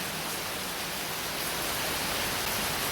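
Heavy monsoon rain in Kerala pours down as a dense, loud, unbroken hiss that fills the whole stretch with no pauses or talk.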